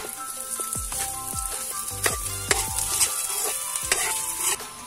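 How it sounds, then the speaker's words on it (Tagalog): Onions and garlic sizzle in hot oil in a pan, with steady frying crackle and several sharp metallic clinks of a utensil scraping and stirring close by. "Since mainit ng mantika guys, kapag mag-amoy na ang bawang guys, isunod natin yung sibuyas."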